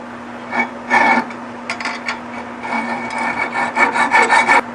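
Uneven rasping strokes of a hand saw cutting a metal knockout bar for a lathe to length, close and irregular, with a steady hum underneath and no talking.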